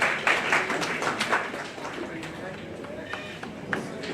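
Audience applause at a media training session on special interest group elections, a dense patter of clapping from many hands filling the room, steady and fairly loud for several seconds with a few sharper claps standing out.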